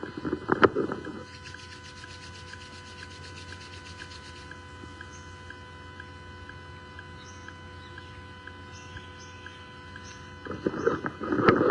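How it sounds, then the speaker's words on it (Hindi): Palms of both hands rubbed briskly together to warm them during a home yoga workout, heard as short, close broadband rubbing bursts at the start and end over a low steady background hum. "हम दोनों हाथों की हथेलियों को ऊपर उठाएंगे, आपस में रगड़ते हुए गर्म करेंगे और आंखों पे रख लेंगे"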